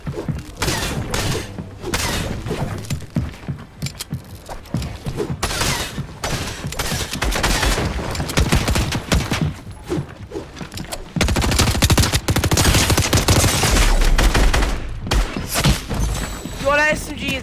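SMG fire in the video game Fortnite crackles in rapid, dense bursts throughout, mixed with other gunfire and booms in a loud, chaotic battle.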